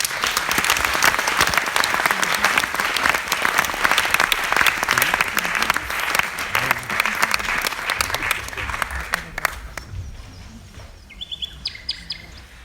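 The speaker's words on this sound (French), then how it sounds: "j'ai envie que vous applaudissiez très fort ce soir Carolina Della Cuesta" An audience at an evening talk on happiness and yoga claps loudly and continuously, a dense crackle of applause that fades and thins out near the end.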